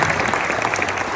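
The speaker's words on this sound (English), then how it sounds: "it's just going to be kind of like a general clap" A conference audience claps together in a general round of applause, a dense, even patter of many hands heard close and alone.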